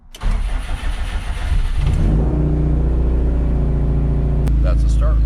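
Subaru STI rally car engine cranking and catching, firing up after about two seconds and settling into a loud, steady, rumbling idle, heard up close.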